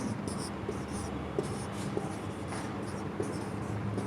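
Chalk or marker scratching out words on a classroom board during a Hindi lesson, a steady close scraping of strokes over faint room noise and soft breathy murmuring.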